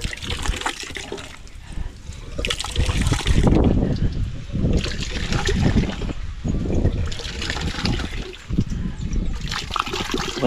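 An electric water pump motor at a house bathroom tap runs steadily while water gushes and splashes in loud surging waves close by, with no talking.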